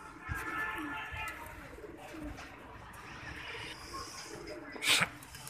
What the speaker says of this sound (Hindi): खा रहे हैं जी दाना कबूतर